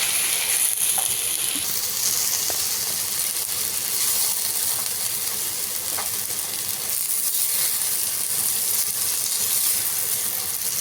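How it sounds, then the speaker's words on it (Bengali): A potato mixture frying in a pan, a steady loud sizzle running throughout with occasional faint stirring scrapes and taps, close up and without voices. "ভালো করে একটু নেড়ে চেড়ে ভালো করে মিশিয়ে নেব।"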